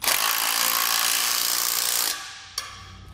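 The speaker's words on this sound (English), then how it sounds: "Then we'll tighten everything down." Power tool tightening bolts and lock nuts while assembling a Malone MicroSport boat trailer: a sustained close buzzing whir for about two seconds, then it stops, followed by a single sharp click.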